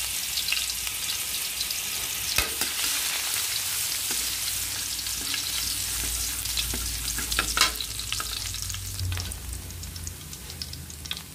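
Garlic sautés in a pan for ham and egg fried rice, giving a steady, close sizzle with occasional stirring clicks and scrapes and no talking over it.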